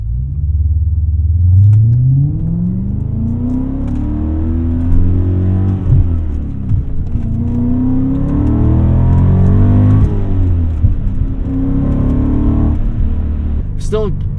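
A 2001 BMW E39 M5 V8 climbing through the revs under acceleration, a loud close rumbling engine note that rises and falls in pitch across several gear pulls, with someone talking over it.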